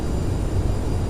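Simulated jet thrust reversers roar during landing of an Aerosoft CRJ700 regional jet in Microsoft Flight Simulator, a steady dense rush of engine noise that is loud and continuous for about a second.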